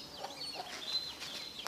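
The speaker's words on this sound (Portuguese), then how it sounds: "Olha o frango aqui, ó." A farm chicken clucks in short, soft calls against quiet outdoor background, several brief chirpy notes spread over a couple of seconds, fairly faint and without talk.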